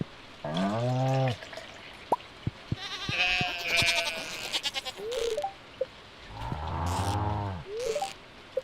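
A goat in the farming video game Stardew Valley bleats several times while being milked, with clicks and short watery, pouring-like tones between the calls.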